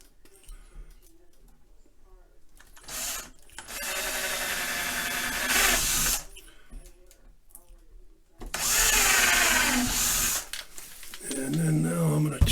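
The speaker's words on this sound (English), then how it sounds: "I'm going to drill the top ones." A power drill whirs in two long sustained bursts, biting into a wooden cabinet door, with brief pauses, handling noises, and a short spoken remark between.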